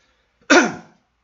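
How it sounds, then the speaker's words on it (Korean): A single close, abrupt cough with a sharp onset that trails off over about half a second, heard alone in an otherwise quiet indoor setting. "기침이 나네요"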